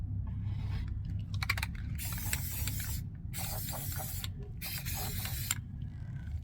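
Spray paint hissing onto a dollar store gingerbread house in several bursts of a second or so, close and loud, with brief clicks and rattles of the can between sprays and no talking.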